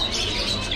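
Birds squawking inside a small shopping mall in Eskişehir, Turkey, a steady blur of high chirps and squawks over indoor hubbub.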